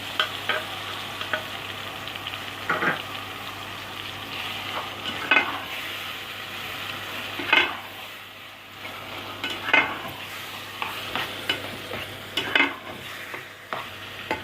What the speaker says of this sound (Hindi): ये बैंगन हमने थोड़े से भून लिए 5 से 10 मिनट